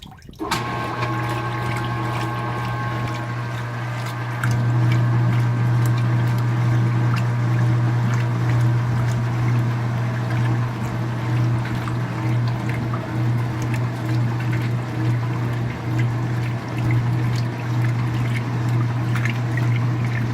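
A 2017 Speed Queen washing machine fills with water for its first rinse, a steady loud rush of pouring water over a constant low motor hum, close and continuous, with no talk.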